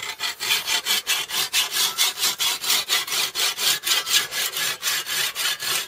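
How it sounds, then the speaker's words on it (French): A triangular file rasps rhythmically against a scythe blade, with about twenty loud, evenly spaced strokes in quick succession, close up and without speech. "je prends une lime comme un triangulaire ou carré, un tire-point on appelle ça"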